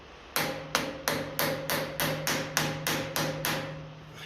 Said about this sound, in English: Plastic hammer is ideal for this now.